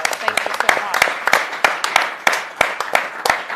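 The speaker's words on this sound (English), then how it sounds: "should we give them a huge round of applause?" Audience applause in a conference forum room, a mix of sharp individual claps over a continuous dense patter, fairly close and loud for a few seconds.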